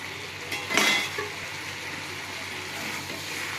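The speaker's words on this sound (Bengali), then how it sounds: "এবার আমি ঢাকাটা খুলবো।" Metal lid lifted off a pan of cooking pui shak greens, a single brief clatter early on over a soft steady simmer.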